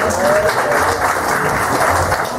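Guests at a 50th birthday party clap together loudly and close by, a dense, continuous burst of applause with a slightly rhythmic pulse and no talking.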